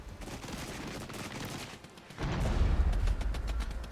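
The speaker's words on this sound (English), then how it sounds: "with the artillery coming in, with the Bradleys, or with the Abrams firing away at these T-64s" Tanks and artillery fire in the Regiments war game, with dense overlapping bursts of shots and blasts rolling on steadily, then growing heavier and deeper for the last stretch.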